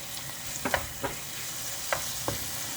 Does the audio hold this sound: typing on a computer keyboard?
no